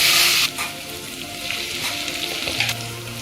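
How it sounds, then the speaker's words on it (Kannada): Potatoes and peas sizzle steadily in a hot pan with oil for tomato bath, a loud hiss at first settling into continuous frying with occasional stirring scrapes. "ನಾನೀಗ ಆಲೂಗೆಡ್ಡೆ ಮತ್ತು ಬಟಾಣಿ ಹಾಕೋತಾ ಇದ್ದೀನಿ. ಇದೊಂದು 2 ನಿಮಿಷ ಫ್ರೈ ಆಗಬೇಕು."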